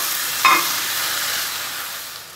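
Chicken liver with green chilies and coriander is stirred in a hot pan, a steady bright sizzle and frying hiss running throughout with one brief scrape of the spoon near the start.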